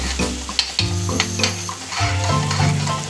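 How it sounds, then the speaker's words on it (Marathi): Milk being stirred into hot jaggery sheera in a pan, steady loud sizzling and bubbling with clinks of a spoon against the pan, close by. "त्याच्यानंतर दूध मिक्स करतो आहे मित्रांनो याच्यामध्ये."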